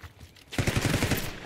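A burst of rapid automatic gunfire in Black Ops 6, a quick rattling string of shots starting after a brief quiet moment, loud and close.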